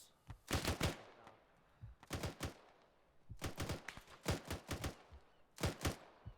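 Suppressive gunfire in the Arma 3 video game: several rapid bursts of automatic fire with short pauses between them, fairly faint overall.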